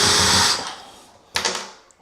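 A power drill backs out a screw from a shower door frame with a loud whir that fades, followed by a short second burst of spinning.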